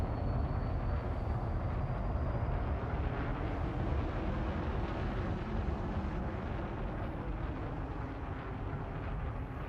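A Lakon Type-8 spaceship in Elite Dangerous lifting off gives a steady, low, rumbling engine roar with a broad hiss on top, fairly quiet and unbroken for about ten seconds.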